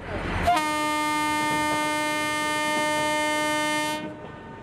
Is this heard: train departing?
yes